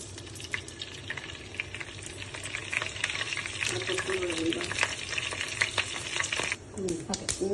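Mustard seeds splutter in hot oil, a dense crackling sizzle with sharp pops scattered throughout, steady and close, with a brief spoon scrape near the end.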